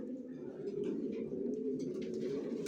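Original racer pigeons cooing in their loft, a steady low murmur of overlapping coos close by, with faint chirps above.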